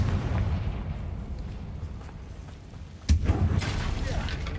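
A sudden sharp blast from the Confringo explosion spell in a Wizarding World video game, landing after a quieter stretch of low rumble and followed by a crackling, fiery tail.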